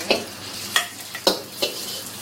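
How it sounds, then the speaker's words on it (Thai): Pork stir-fries in a hot pan: a soft steady sizzle broken by four sharp scraping strokes of a utensil at a loose, even pace. "เพราะเราจะคั่วหมูให้มันสุกๆก่อนเลย"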